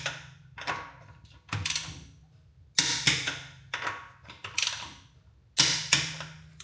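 Torque wrench clicking and ratcheting while tightening Nitron R3 coilover bolts to spec on a BMW F80 M3, a few sharp metallic clicks spaced apart with quiet gaps, close and moderately loud.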